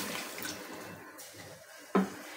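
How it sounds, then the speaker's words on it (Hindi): Water poured into a cooking pot, about a litre, while making chicken mandi rice; a soft steady splashing pour fills the clip, ending with a brief louder splash near the finish. "तकरीबन 1 लीटर के करीब मैं इसके अंदर पानी ऐड कर रही हूँ।"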